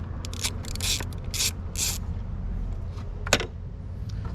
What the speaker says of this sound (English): I'm going to go ahead and loosen this bolt.